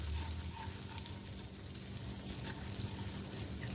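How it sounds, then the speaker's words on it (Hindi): Butter melting in a pan on a lit stove for an Iftar dessert, giving a steady low sizzle with faint scraping as it is stirred, close and continuous without voices. "चूल्हा मैंने ऑन कर लिया है और अब इस बटर को अच्छे से इसमें मिक्स करते हैं"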